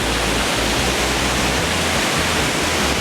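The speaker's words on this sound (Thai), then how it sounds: "นี่ก็น้ำตกอีกอันหนึ่งเหมือนกัน" Steady, loud roar of falling water from a waterfall near Pha Chup Kan, Chiang Mai, a dense broadband rush with no pauses, heard close by.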